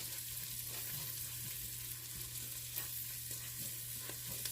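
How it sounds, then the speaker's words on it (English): Onions and garlic sauté in a pan for Southern collard greens, giving a steady close sizzle with soft stirring scrapes throughout and no voices. "let your onions get going first because you want to let that garlic only saute for about a minute"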